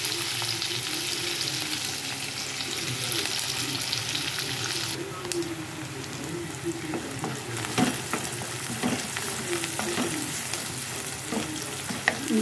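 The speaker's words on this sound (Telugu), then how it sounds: "ఇప్పుడు ఆనియన్స్ వేసుకుంటాను." Onions frying in a pan of hot oil for a curry make a steady close sizzle, broken now and then by clinks and stirring scrapes, with no talking.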